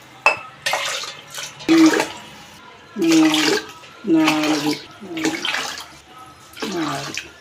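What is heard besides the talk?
water poured into rice and toor dal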